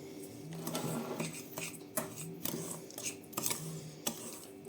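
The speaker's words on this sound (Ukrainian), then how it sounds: "Перемішуємо." Clinking and scraping of a utensil stirring pumpkin pie batter with cocoa in a bowl, repeated irregularly at close range with no voices.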